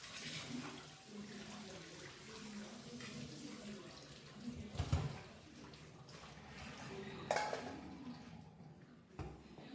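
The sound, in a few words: rinsing cooked pasta in cold tap water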